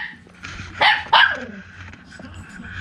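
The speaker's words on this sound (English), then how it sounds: "my brother-in-law's dog" A dog at a family home gives two sharp, fairly close barks in quick succession, then goes quiet, with low room noise and faint voices in the background.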